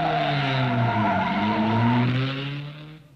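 Racing cars in the 1953 Mille Miglia roar past on the road between Siena and Florence, one engine note held loud and close, then fading as it moves away.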